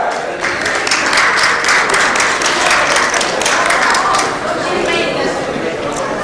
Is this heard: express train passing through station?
no